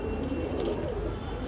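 Soft cooing of Punjabi Malwai pigeons close by, low murmuring calls over a faint background hum.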